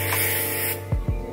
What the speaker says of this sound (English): I'm just going in with this Stuck Up Mega Hold from White Sands. It's a hairspray.